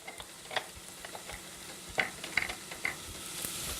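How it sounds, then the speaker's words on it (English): Onion sauteing in a pan, a quiet close sizzle broken by crisp pops and spatters at irregular intervals, with a few clicks of stirring. "onion sauteing beautifully"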